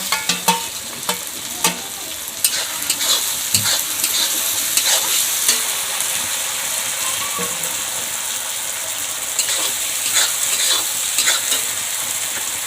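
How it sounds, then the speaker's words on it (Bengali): Chopped small tomatoes fry in a pan for a rohu fish curry, giving a steady crackling sizzle with scattered clicks and scrapes of a spatula stirring, close and continuous, with no talking. "এগুলো এখন ভালোভাবে ভেজে নেব।"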